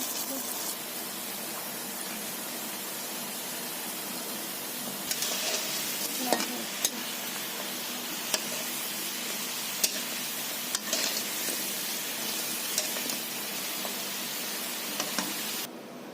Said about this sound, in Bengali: বন্ধুরা এইভাবে লাল লাল করে ভেজে নিয়েছি